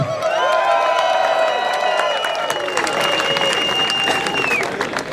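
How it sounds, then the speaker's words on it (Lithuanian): A crowd at the Baltic Pride march in Vilnius claps steadily, with sustained whistle-like tones ringing over the applause and cheers throughout. "jūsų aplodismentai"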